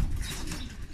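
Pigeons cooing with wing flaps, a racing-pigeon loft preparing for a long-distance race; soft low murmuring calls and rustling continue steadily for a moment, close by.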